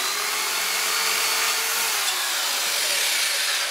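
A small wooden cross brace for a diorama is being cut. The rasping, hissing cutting noise is steady and close, runs for a few seconds and plays alone.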